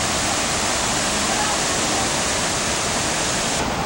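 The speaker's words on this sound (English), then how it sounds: "here's the waterfall" A waterfall outside the Palace Hotel in Las Vegas pours in a loud, steady broadband rush that fills the whole clip with no break.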